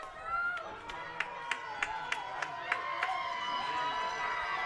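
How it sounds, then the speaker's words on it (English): Spectators at a Cal Ripken 10U World Series youth baseball game, Bryant against Red Land, clap in a steady rhythmic beat of about a dozen claps over a low murmur of crowd noise, with a voice speaking over it. "So the crowd getting pumped here"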